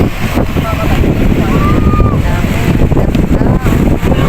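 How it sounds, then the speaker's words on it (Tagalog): Strong wind buffets the microphone at the seashore, a steady roaring rush with surf-like noise beneath, while voices talk faintly in the background. "Oh, lakas ng hangin, ang lamig-lamig dito."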